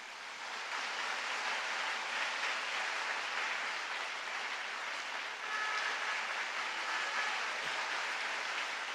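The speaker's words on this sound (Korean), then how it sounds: "우리 목사님 모실 때에 큰 박수로 모시도록 하겠습니다" A church congregation at a holy breakwater prayer meeting breaks into sustained, dense applause welcoming the pastor, a steady wash of clapping that holds evenly for several seconds with no voices on top.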